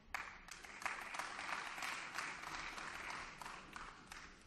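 Applause rises in the Berlin state parliament chamber, a sustained patter of many hands clapping at moderate distance, fairly even throughout.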